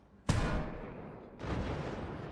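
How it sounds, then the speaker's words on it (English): A fragmentation cannon in a video game fires canister rounds: two sharp, loud blasts about a second apart, each a sudden broadband boom that trails off into a rumbling decay. "Fragmentation cannon. Firing those canister rounds."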